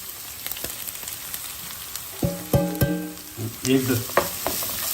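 Spice powders, turmeric and coriander, frying in a pan for a Karnataka-style baji side dish, with a steady sizzle broken by scraping stirs and clinks of a spoon near the end.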